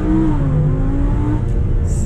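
Audi R8 engine held at high revs on launch control, a steady loud mechanical roar with a slightly rising whine throughout, close by and continuous with no talk.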